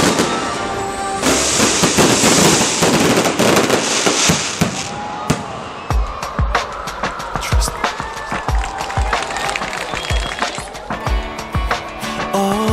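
Fireworks bursting over a theme park at night in a dense barrage, loud booms and crackling pops overlapping, then sharper individual bangs spaced out with a faint murmur of people.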